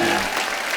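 Brief burst of studio audience applause on a comedy talk show, dense and steady throughout the short moment.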